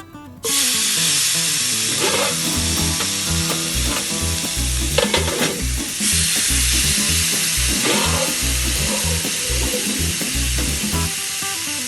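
Chicken for tandoori chicken frying in a little oil in a pan on a slow flame, a loud continuous sizzle and hiss close up with occasional stirring clatter, no voices.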